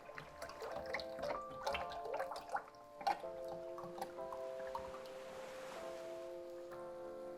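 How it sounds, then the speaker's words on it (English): Oil pours into a small pot on the stove, a soft gurgling, trickling flow with a rising tone as the pot fills, close and quiet, with no voices. "we're going to add about 4 cups of oil."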